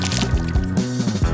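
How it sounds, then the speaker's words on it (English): Water is added into a toy toilet filled with slime ingredients, producing a loud, close, gloopy sloshing and squelching with liquid gurgles over about a second. "Now just add water."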